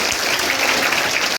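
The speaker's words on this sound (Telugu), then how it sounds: "ఒకసారి ఫ్యాకల్టీకి క్లాప్స్ కూడా." A crowd at a coaching program's final day claps for the faculty, dense steady applause from many hands that cuts off abruptly.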